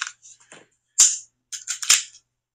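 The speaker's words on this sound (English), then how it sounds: "Whenever you chamber your gun, don't just drop the slide." A Glock pistol's slide is dropped to chamber a round, producing a few sharp metallic clacks and clicks close up, with separate bursts about a second apart.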